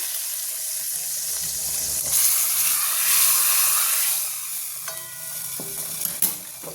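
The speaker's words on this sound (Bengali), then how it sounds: "এই ফোড়নটা আমি এবার এর উপরে দিয়ে দিচ্ছি" Hot spice tempering is poured over a vegetable curry with fritters, giving a steady close hissing sizzle that rises and then eases, with faint clinks near the end.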